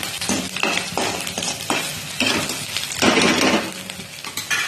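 Fried noodle seasoning powder sautéed in a pan, heard as a steady sizzle broken by repeated scraping stirs and light clinks of a utensil against the pan, close and fairly loud with no talking.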